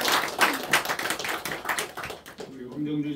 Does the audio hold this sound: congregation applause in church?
yes